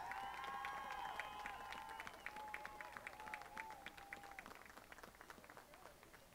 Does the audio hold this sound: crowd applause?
yes